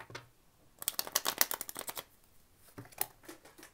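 A deck of cards being shuffled by hand, two bursts of rapid riffling flutter separated by a short pause, close and clear with no talk.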